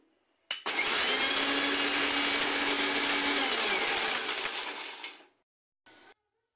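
An electric spice grinder whirs through coarse thandai masala spices, starting with a click, holding a loud high whine for about four and a half seconds, then winding down, followed by a short second burst.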